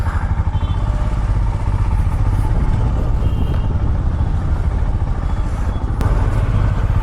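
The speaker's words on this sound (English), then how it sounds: "Alright, started the bike." Custom Royal Enfield Himalayan Latitude 440 motorcycle idles just after starting, a loud, close, steady thumping engine rumble throughout.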